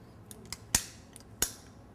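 Sharp clicks from a cookie press trigger releasing dough onto a baking sheet, two loud snaps with a few fainter ticks between, close and alone with no talk.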